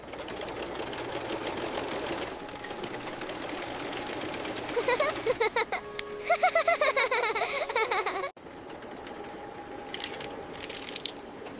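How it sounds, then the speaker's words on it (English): Sewing machine stitching together a soft stuffed toy, with fast rhythmic needle chatter in bursts, a short stretch of clicking mechanism and a pause, and higher giggly vocal sounds layered over the mechanical noise. "Now we sew it all together."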